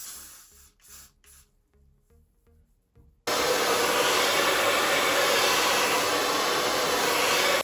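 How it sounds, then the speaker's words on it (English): Adhesive spray hisses steadily and loudly from a can onto a wig cap, a close continuous broadband spray lasting several seconds after a few short quieter sounds. "So make sure you're not spraying too much."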